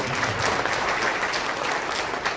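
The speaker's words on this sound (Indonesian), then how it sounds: "Berikan tepuk tangan buat saya." An audience at a seminar breaks into applause, a thick, even wash of many hands clapping at once, steady and loud for the whole stretch with no voices over it.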